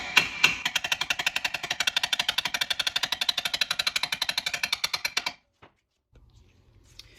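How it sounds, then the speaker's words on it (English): A 4-pound sledgehammer tapping out a long front suspension bolt on a Land Rover LR3/LR4, a fast, even series of about forty sharp metallic taps for five seconds, close and loud, then abruptly stopping into near silence. "now I've got a 4-pound sledge. I'm just gonna lightly tap this out"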